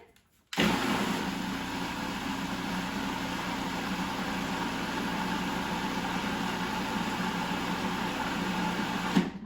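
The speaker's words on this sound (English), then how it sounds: "So I'll start my food processor." Cherry tomatoes blended in a food processor: the motor starts abruptly after a short quiet moment and runs as a steady, loud, whirring roar through to the end, with no talk.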